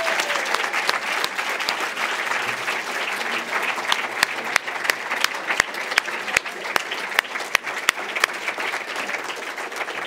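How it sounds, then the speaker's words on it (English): A live college audience applauds speaker Mark Trammell in a steady, sustained round of clapping with a few sharp, loud individual claps standing out near the end. "Let's give Mark Trammell another round of applause."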